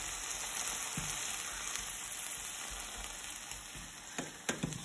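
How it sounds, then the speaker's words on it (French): Beetroot slices with soy sauce frying in a skillet produce a steady, close sizzle throughout, with a few brief taps of a utensil near the end. "Je vais en passer 2-3 tranches, comme je disais tout à l'heure, à la poêle."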